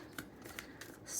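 Tarot cards are shuffled for a weekly reading, with a handful of quick crisp riffling snaps spaced evenly at close range in a quiet room.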